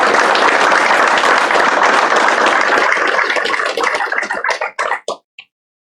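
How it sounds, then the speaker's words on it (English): Applause from the audience at a CTE letter of intent signing day at TCAT-Pulaski: loud, dense clapping fills the room for about four seconds, then thins into a few scattered last claps and stops. "let's give them a nice big round of applause"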